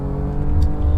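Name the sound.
BMW M3 engine revving in Assetto Corsa video game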